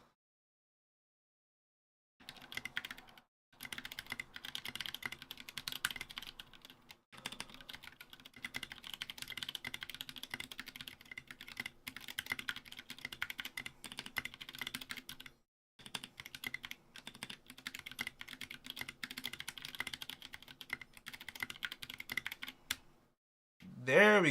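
Steady, fast typing on a Ducky One 2 Mini hotswap mechanical keyboard fitted with SA keycaps. The keystrokes clack close and clear in continuous runs, with a few brief pauses between them.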